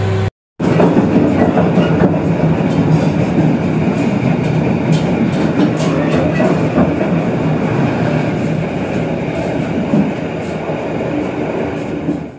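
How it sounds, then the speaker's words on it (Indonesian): The Kutojaya Utara economy passenger train rumbles steadily with a clattering of wheels on rails, loud and continuous, with faint squeals as it rolls into Sumpiuh station in Indonesia at night. "pukul 20:38 kereta api Kuto Jaya Utara tiba di stasiun Sumpyuh"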